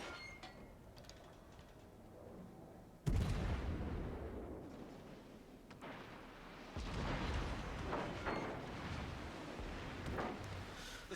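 Naval gunfire salvos roar out in a World of Warships ranked battle with a Baltimore cruiser, aimed at a Georgia battleship: one sudden heavy boom, then sustained rolling rumble with further booming blasts, loud and close.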